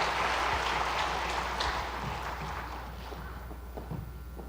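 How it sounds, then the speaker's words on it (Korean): Church congregation applauding award winners during a Sunday service, a dense wash of clapping that starts strong and gradually fades over a few seconds. "큰 박수로 축하해 주시기 바랍니다"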